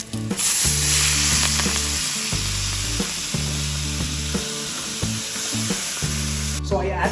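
Loud, continuous sizzling of rapini frying in a little oil, with stirring scrapes and a low hum underneath, close up and with no talking.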